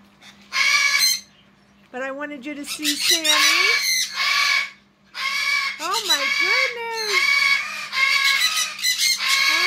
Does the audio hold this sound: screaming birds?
yes